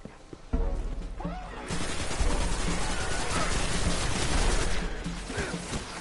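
Rapid gunfire bursts from the video game Destiny on PS4, loud and dense after a quieter start, with continuous shots and impacts through most of the stretch.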